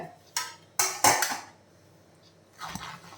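A spoon stirs fermented idli batter made from ration boiled rice in a metal pot, giving a few sharp clanks and scrapes in irregular bursts, close by, with no talk.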